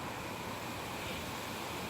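Steady, rushing wind noise fills the whole moment, a constant broadband roar with no voices.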